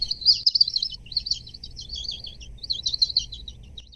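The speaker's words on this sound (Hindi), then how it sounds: "कोयल की आवाज है वो कोयल है, एंड फिर बहुत सारे जो वो छोटे छोटे स्पैरोज" Asian koel and a crowd of small sparrows calling outdoors, a steady stream of high chirps and tweets running throughout over a low background rumble, fairly close and clear.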